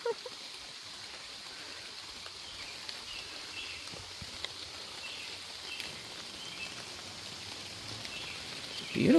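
Steady, soft rainfall near a swinging bridge in Columbus Junction, Iowa, a continuous fine hiss with faint scattered drips and no voices.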